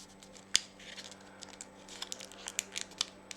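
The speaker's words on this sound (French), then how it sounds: "On va rabattre chaque côté, toujours pareil, sur le pli du milieu." Paper being folded by hand for an origami bookmark, sides brought in to the middle crease: soft crinkling and rustling with one sharp crisp snap early on, then a series of small close paper ticks and scrapes, no voices.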